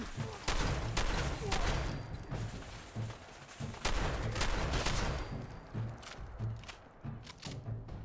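Repeated heavy gunshots in a video game, likely a shotgun, with loud sharp blasts spaced irregularly over a steady background of battle noise and thuds.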